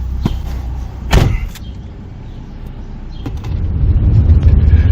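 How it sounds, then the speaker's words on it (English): A car is boarded for a ride: a door thuds shut, followed by a brief mechanical whir like an electric window, then the car's engine idles, with a low rumble rising toward the end. "I'll give you a ride in my car."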